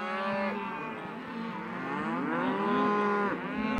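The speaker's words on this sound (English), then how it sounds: "These cows are not happy that we're going to brand their calves." Cattle on a Wyoming ranch, with cows bellowing during calf branding, give loud, drawn-out moos that overlap and rise and fall continuously, close by.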